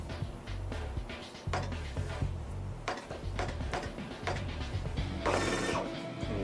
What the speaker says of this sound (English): the media stepping back into the printer, calibrating that label